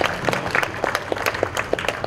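A church crowd claps in welcome for a bishop at a feast day Mass, producing a brief burst of uneven, close handclaps with distinct individual claps.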